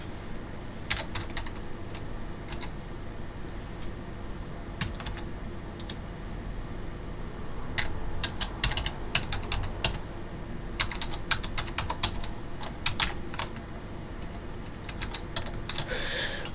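Typing on a computer keyboard: scattered quiet key clicks and short bursts of keystrokes over a steady low background hum, with no talking.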